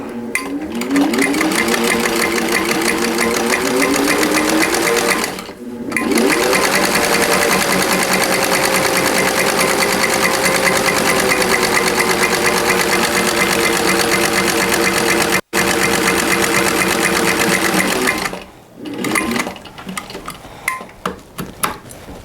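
A sewing machine stitches a buttonhole on a boho tiered jacket, running in a loud, rapid steady chatter with two brief pauses, stopping near the end with some quieter handling sounds.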